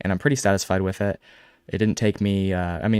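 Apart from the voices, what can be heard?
No everyday noises stand out.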